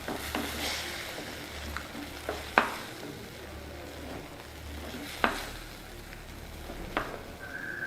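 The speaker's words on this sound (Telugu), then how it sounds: "టమాటో ముక్కల్ని కూడా బాగా వేగనిద్దాం టమాటాలు బాగా వేగేయండి" Tomato pieces fry in a pan with a soft, low sizzle, broken by occasional sharp scrapes and taps of a spoon stirring against the metal, quiet and close with no speech.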